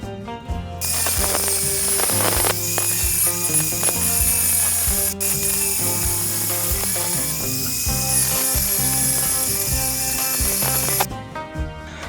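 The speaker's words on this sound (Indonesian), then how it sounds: "Ini dengan cara ini kita lubangi, kita gerinda dulu." Angle grinder cutting open a broken clothes iron, a loud continuous high-pitched grinding whine with rattling and chattering underneath, running almost unbroken for about ten seconds.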